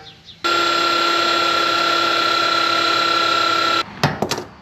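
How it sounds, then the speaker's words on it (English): A metal lathe turns a part down true, producing a loud, steady mechanical whine for about three and a half seconds that cuts off abruptly and is followed by a few sharp clanks and knocks. "now we're gonna put this on the lathe so we can get it turned down nice and true"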